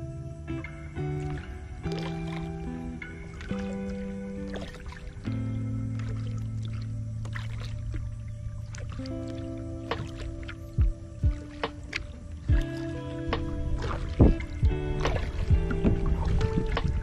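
A kayak paddles through calm water in a coastal aquatic preserve, with soft, faint paddle splashes and drips over a low, steady hum in a quiet setting.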